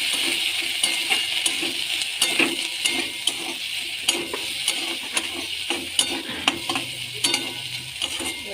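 Salt, turmeric and cumin powder are stirred into a Bengali katla fish curry in a sizzling pan, with a steady fry and repeated scraping and clinking strokes of the spoon close by.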